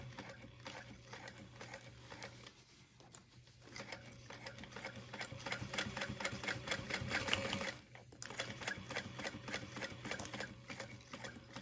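Sewing machine stitching around a zipper on a backpack: fast, rapid needle chatter that runs in bursts, pausing briefly and then resuming louder, close and steady.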